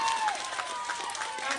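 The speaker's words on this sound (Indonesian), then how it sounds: "Tepuk tangannya." Audience applause and crowd noise at a large campaign rally, a steady dense wash of clapping with voices mixed in, brief and fairly even throughout.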